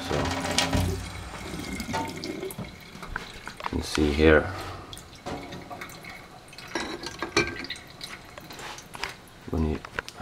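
Acidic water pours and splashes from a Panasonic water filter tap in short bursts, with gurgling and dripping, while someone talks over it.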